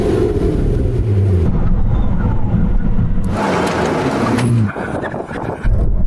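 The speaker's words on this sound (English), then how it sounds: "Now we can have a brake test from 100 miles an hour." Ferrari SF90 and Porsche 918 braking hard from 100 mph, a loud broadband roar that shifts and then drops away sharply before a short final burst.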